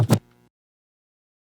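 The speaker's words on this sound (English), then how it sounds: "The first one is the scratch sample, and this adds some nice groove to the track." A very short record-scratch sample from a dance track drop: two quick close scratch bursts with a brief ringing tail, then silence.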